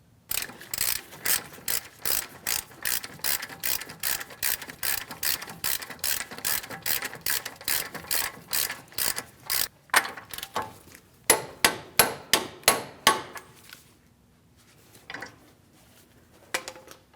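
A torque wrench ratchets steadily on a front control arm bolt of a Chevrolet Malibu, with a long run of evenly spaced clicks, then slower sharper clicks and a metallic clack before quieting.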